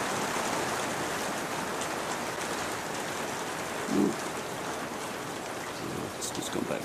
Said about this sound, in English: Oh, it's just gone back to sleet again.